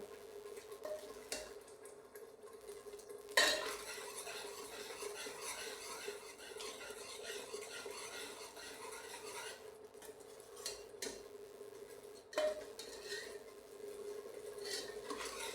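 A spoon stirs and scrapes masala roasting in a pan for aloo paneer curry, with faint clinks and soft scraping over a steady sizzle, two sharper knocks standing out, all quiet and with no one talking.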